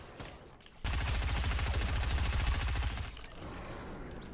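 Rapid burst of gunfire in the video game Fortnite, loud and sustained for about two seconds of dense automatic shots, then dropping to quieter background game sounds, with no talk.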